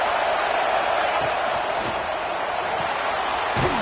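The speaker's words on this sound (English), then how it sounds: "It's early, but this crowd is fired up. Listen to this noise here." In the video game College Football 26, a stadium crowd cheers as a constant loud roar of many voices, with a few sharp thuds and whoops rising out of the din.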